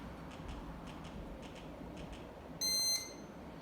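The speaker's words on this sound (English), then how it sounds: "The machine should alarm" A suction pump machine alarms during a blocked-tubing test: a quiet pump hum runs throughout, then a loud, piercing electronic beep sounds briefly near the end, with a second short chirp just after.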